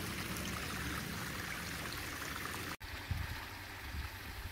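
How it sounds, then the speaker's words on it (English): Steady rush of a koi pond waterfall pouring over stainless steel trim, a continuous broadband wash of flowing water heard alone, with a brief dropout near the end. "it become the waterfall you've all become familiar with"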